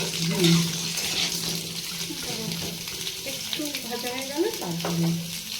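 Sliced potato strips with bay leaf frying in oil over a low flame, a steady soft sizzle with occasional stirring scrapes, and a voice speaking over it throughout.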